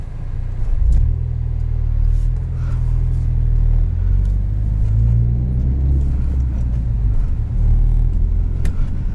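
A 2017 Ford Focus RS in track mode rolls over a bump, its engine giving a steady, deep rumble with a slight swell in revs partway through, heard close from inside the car.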